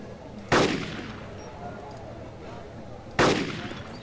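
Two sharp gunshots ring out in a police shooter game, spaced about three seconds apart, each with a short decaying tail over quiet background.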